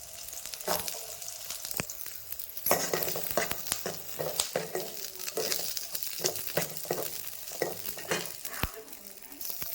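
Tomatoes and onions sizzle steadily in a hot pan, with repeated scraping and clinking as they are stirred, close and continuous.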